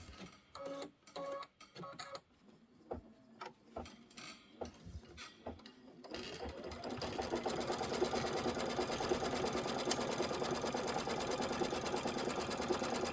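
A machine quilting the outer border strips of a Kimberbell Candy Corn quilt in a hoop starts with scattered clicks and short bursts, then settles into a steady, fast mechanical stitching whir, close and even.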